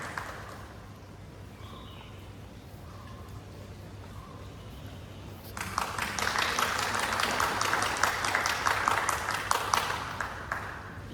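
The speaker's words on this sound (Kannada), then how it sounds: "ಜೋರಾದ ಚಪ್ಪಾಳೆ ಬರಲಿ" Applause from an audience at a Ramayana Harikatha performance, rising halfway through into a dense, sustained burst of many hands clapping after a quiet, murmuring start.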